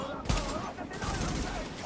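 Gunfire from The Division on PS4 in the Garment District, a sharp loud shot near the start followed by a dense, continuous burst of game noise and firing throughout.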